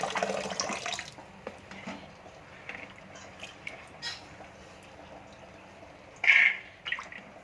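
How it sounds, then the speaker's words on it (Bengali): Soaked chickpeas are rinsed in a kitchen under running water: about a second of splashing tap water, then a quiet stretch with faint drips and handling sounds, and one louder bright clatter near the end. "তো চলুন চানাটাকে ভালো করে আগে ধুয়ে নিই।"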